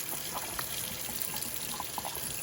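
Hot water runs steadily from a tap, a soft continuous splashing stream with faint dripping detail, heard close and alone with no talking.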